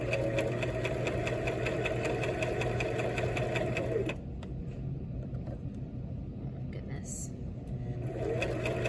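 A sewing machine runs fast and steady while stitching around a pillow, pausing briefly partway through before starting up again, with a voice speaking over the whirring.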